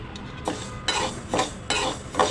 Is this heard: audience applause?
no